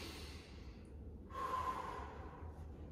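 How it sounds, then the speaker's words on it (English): Slow, deep breathing during a stretching exercise in a balance and strength routine, with a soft inhale swelling into a louder, airy exhale up close. "we're gonna stretch through our body and take some big deep breaths"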